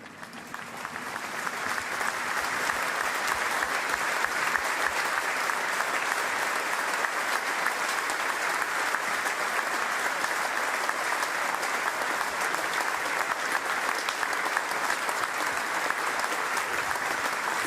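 A standing stadium crowd at an A-League football match between Adelaide United and Macarthur Bulls gives sustained, even applause for a moment of remembrance, steady and broad after a brief buildup, with no voices over it.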